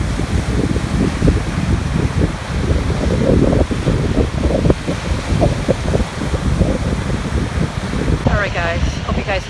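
Wind buffets the microphone at a beach in Hawaii with loud, gusty low rumbling throughout. Surf may mix in underneath, and faint voices or birdlike chirps appear near the end.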